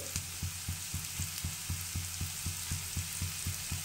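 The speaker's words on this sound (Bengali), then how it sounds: "এই পেঁয়াজ রসুনের সঙ্গে একটু ভেজে নেব, বেশি ভাজলাম না, হালকা ভাজতে হবে।" Onion and garlic fry gently with salt, turmeric, red chili powder and cumin in a pan, a quiet steady sizzle with a regular rapid ticking pulse underneath, close and with no talk.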